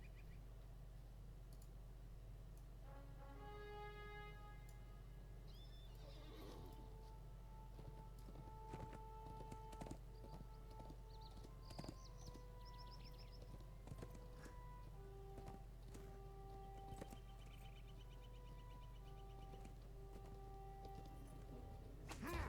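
Faint, steady hoof clip-clops from a horse in a Middle-earth video game patter along under a low hum, mixed with scattered clicks and thin musical tones, with no talking.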